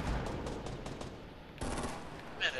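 Rapid bursts of automatic gunfire from an assault rifle in the Fortnite battle royale video game, loud and close, with a brief pause and then a dense volley, ending in a sharp higher-pitched impact.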